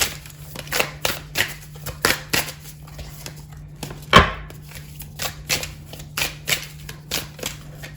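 Oracle cards being shuffled close by in a steady run of soft riffling bursts about twice a second, with one sharper knock partway through and no speech.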